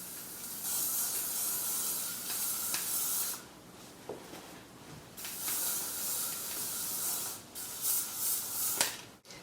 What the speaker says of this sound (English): I'm using the L'Oreal Elnett hairspray, and I'm just going to give it a good spray all over.